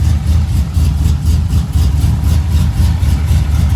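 An LSA-swapped car engine warming up holds a loud, steady, rumbling idle close by, with a deep low throb and slight rhythmic pulsing and no clear rev.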